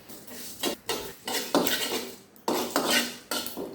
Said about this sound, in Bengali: পাঁচফোড়ন ভেজে নেব